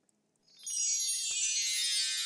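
Water is poured into glasses on a comedy stage: after a brief silence a steady, bright trickle starts and runs on, rising slightly in pitch as the glass fills, close and alone.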